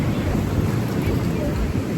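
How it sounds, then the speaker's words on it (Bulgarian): Strong wind buffets the microphone outdoors on a seaside holiday, a loud, steady rumbling roar with gusty swells that fills the whole moment, alone without talk. "Днеска много духа."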